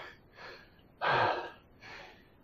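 Heavy breathing after a dumbbell workout comes as four close, loud exhalations and gasps in a slow uneven rhythm, one sharper and stronger than the rest, with no talk.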